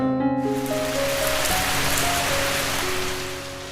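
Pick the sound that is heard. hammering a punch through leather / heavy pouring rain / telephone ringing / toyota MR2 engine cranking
heavy pouring rain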